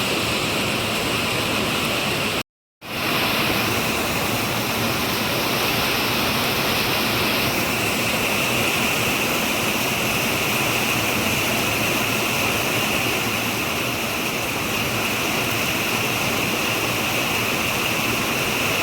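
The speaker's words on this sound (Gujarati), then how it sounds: "વરસાદ પડ્યો મિત્રો બહુ" A dense, continuous roar of heavy rain pouring over farm fields fills the whole stretch, loud and unbroken apart from one short dropout near the start.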